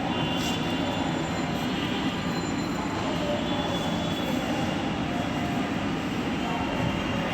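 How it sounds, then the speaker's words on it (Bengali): A Dhaka metro train at Farmgate station produces a loud, steady rumble that fills the whole stretch without letting up. "মেট্রো রেলের এখানে চলে আসলাম, এখন ট্রেনের অপেক্ষায় আছি আমরা।"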